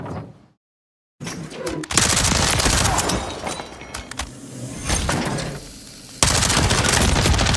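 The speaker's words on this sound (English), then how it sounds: "I'm getting shot from two sides." Gunfire in a first-person shooter, a brief silence and then sustained bursts of rapid automatic fire and heavy impacts that swell and ease and return loud, with no talk over it.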